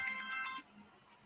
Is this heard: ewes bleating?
no